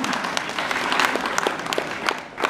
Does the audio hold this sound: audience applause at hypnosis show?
yes